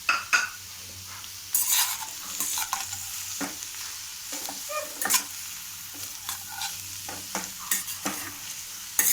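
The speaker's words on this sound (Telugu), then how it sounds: "ఇవి కొంచెం సేపు మగ్గినాక ఇప్పుడు క్యాబేజీ బాగా మగ్గింది" Cabbage sautéing in a pan with turmeric and salt: a steady soft sizzle with repeated stirring scrapes and light utensil clinks against the pan, close and continuous, with no talking.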